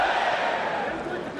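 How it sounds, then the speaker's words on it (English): A roaring arena crowd at an MMA fight between Vovchanchyn and Takada, a dense, loud wall of shouting and cheering that holds steady throughout without pause. "Crowd's going nuts."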